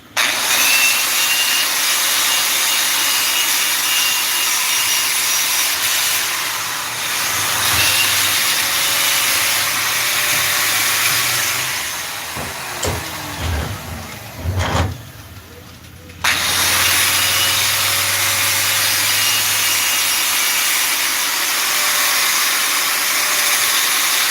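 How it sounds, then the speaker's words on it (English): A wire wheel machine spins against a knife blade in a workshop, a loud steady whirring grind with brief pauses and shifts in pitch as the blade is worked, running through most of the stretch. "this thing shoots off these wires and they'll stick in you"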